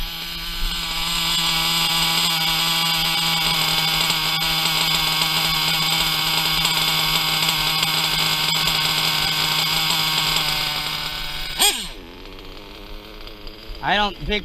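Novarossi RCR .25 nitro RC car engine screams at a high, steady whine for several seconds, then drops abruptly and blips through short rising and falling revs near the end, loud and close.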